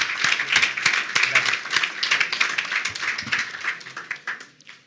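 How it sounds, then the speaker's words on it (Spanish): Applause rises from attendees at a parliamentary group plenary meeting, a moderate patter of many hands mixed with murmured voices, tapering off at the end. "Vamos a darle un aplauso muy fuerte para despedirlo"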